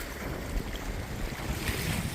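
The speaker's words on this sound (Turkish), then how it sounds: "Deniz dalgalı." Rough sea waves wash against the shore at Güzelbahçe, İzmir, under a strong gusting wind, a loud, continuous surging roar with no voices.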